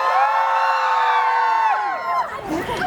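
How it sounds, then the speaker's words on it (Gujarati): A crowd at a carnival-themed party cheers and whoops loudly for a guest, a dense wash of overlapping high voices sustained for about two seconds before it breaks up into scattered shouts. "ઓકે આપણે છે ને ચીયર અપ કરાવીએ બધા લોકોએ સાથે."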